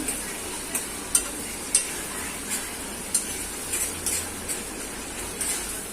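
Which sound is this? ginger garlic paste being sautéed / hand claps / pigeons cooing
ginger garlic paste being sautéed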